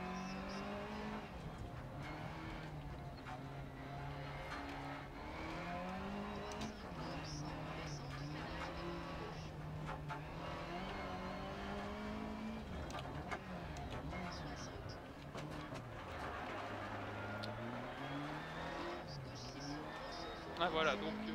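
An Opel Manta rally car in a racing video game, its engine rising and falling as it revs and accelerates, with tire noise, while someone talks steadily over the game sound.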